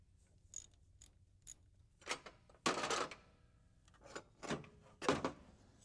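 Removal of an air pump from a Scrambler engine to clear room for the power steering pump: scattered metallic clicks, clanks and rattles of parts being worked loose, several louder bursts of handling, close up, with no talking.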